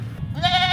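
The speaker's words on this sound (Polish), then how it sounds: "Tutaj koza, którą cały czas będziecie słyszeć w tle." A goat bleats once in a drawn-out, wavering call, close and clear, following a moment of low background rumble on a street in Marawi, Mindanao, in the Philippines.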